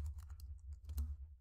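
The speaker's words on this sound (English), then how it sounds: "Y'all see me typing into the search bar." Quick, soft key taps from typing on a computer keyboard into a search bar, an uneven burst of clicks close by with no talking.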